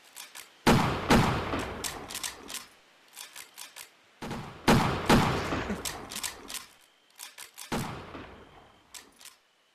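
Bursts of rapid gunfire from a VR bigfoot hunting game, three loud volleys of repeated shots separated by short pauses, with faint sharper clicks between them.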